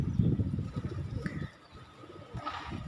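Several pigeons of various breeds coo in a low, throaty, rolling murmur close by. The cooing is strongest at first, then drops off and returns faintly near the end.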